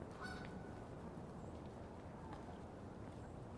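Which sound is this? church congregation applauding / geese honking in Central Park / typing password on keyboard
geese honking in Central Park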